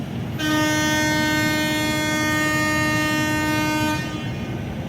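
A new INKA EA207 KRL electric train on its first test run sounds a loud, sustained horn tone for about three and a half seconds over a steady rumble of the passing train, with no voices.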